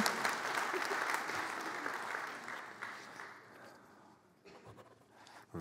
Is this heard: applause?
yes